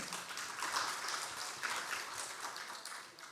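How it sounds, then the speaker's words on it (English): Audience applause for Dr. Fadlizon, Indonesia's Minister of Culture, at the IICCD 2025 opening ceremony: a steady, dense wash of clapping from a large hall crowd, swelling slightly and then tapering off toward the end. "Let me big applause to Dr. Fadlizon."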